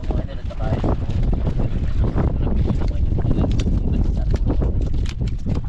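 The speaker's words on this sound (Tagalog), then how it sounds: "mas lalong lumakas yung hangin idol" Strong wind buffeting a small fishing boat out at sea, roaring steadily and loudly against the microphone with continuous rushing noise and scattered knocks throughout.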